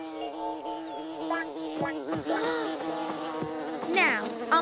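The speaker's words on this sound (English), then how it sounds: "Makar, are those bees attacking?" Cartoon bees buzz in a close, droning hum with wavering pitch that rises and falls, swelling louder near the end, with no voices over it.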